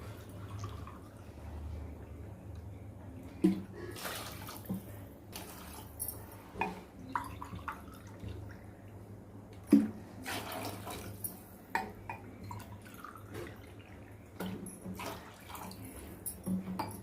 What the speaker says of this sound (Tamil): இப்போ வந்து தண்ணி அளந்து ஊற்றிக்கலாம்.